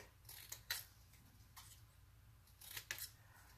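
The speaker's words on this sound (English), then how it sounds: "I'm pretty sure I can just use my scissors and be straight" Several crisp scissor snips cutting paper in two short bursts, close and fairly quiet, with a low hum underneath.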